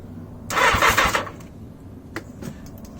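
A 1980 Yamaha XJ650 motorcycle engine with a loose wire cranks on its starter in one short, rough burst of about three-quarters of a second, then goes quiet, leaving a few faint clicks.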